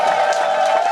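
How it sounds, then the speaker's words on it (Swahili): Church congregation breaks into a loud, dense burst of clapping and joyful ululation praising the Lord, a close, continuous crowd sound filling the whole moment. "Hebu mpigie Bwana makofi na vigelegele"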